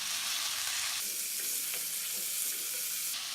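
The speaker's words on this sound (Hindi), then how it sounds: "जब लहसुन की खुशबू आने लगे तो इसमें चिकन डालकर फ्राई करें" Chicken frying in an oil-filled pan with garlic gives a loud, dense sizzle that crackles continuously for a few seconds.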